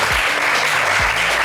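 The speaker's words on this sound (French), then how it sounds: "Eric et Moussa, on va vous applaudir très fort." Studio audience applauding loudly and steadily for the guests Eric and Moussa on a French television game show.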